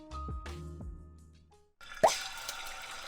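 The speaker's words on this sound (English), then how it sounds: "Then add in the noodles." Cooked noodles drop into a bowl of hot noodle water with a single soft splashy plop, followed by a brief wet settling, after a few gentle musical notes.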